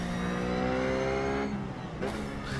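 Race car engine in the iRacing simulator during a Blancpain Sprint Series warmup, a loud continuous high-revving drone with shifting pitch and a brief dip before climbing again.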